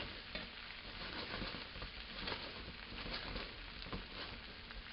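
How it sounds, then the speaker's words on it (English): Potatoes frying in olive oil as they start to brown, a steady close crackling sizzle with light stirring scrapes running evenly throughout, no voices. "potatoes are coming along very, very nicely. Starting to brown a little bit."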